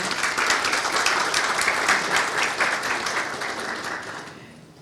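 Applause from a conference panel audience, a full wash of clapping that holds steady and then fades out gradually toward the end.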